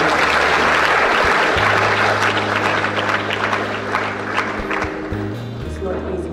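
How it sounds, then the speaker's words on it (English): Audience applause at an inaugural professorial lecture, a steady dense wash of clapping that fills the hall, with a low tonal hum and faint voices running beneath it. "Another round of applause, please."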